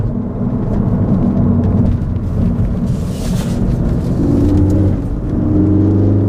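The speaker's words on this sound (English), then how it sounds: "It's a fast car to do a pull like that." A Ford Focus ST accelerates hard on a winding road, its engine note loud and close from inside the cabin, holding a steady heavy roar that rises in pitch through the pull with a gear change near the end.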